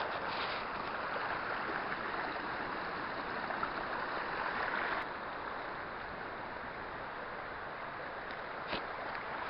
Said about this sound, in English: This little stream looks so cool up here.